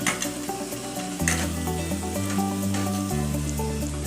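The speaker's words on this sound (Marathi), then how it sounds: "आता त्यामध्ये आपण कांदा घालून घेऊ हा कांदा परतून घ्यायचा आहे" Onion sautéing in a hot pan with garlic and spices for a Maharashtrian potato dish, a continuous crackling sizzle with steady music playing alongside.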